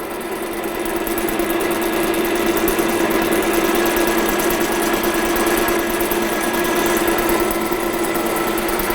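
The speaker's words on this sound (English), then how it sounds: "now I'm going to start doing my machining process" A metal lathe facing a workpiece with cutting fluid on, taking a light cleanup cut of about 0.3 mm, gives a steady, continuous machine whine and hum with no break, held at an even level throughout.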